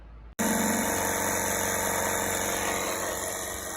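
A DieHard Platinum Power Dome air compressor kicks on abruptly after a short quiet moment, then runs with a loud, steady mechanical drone and buzzing motor hum.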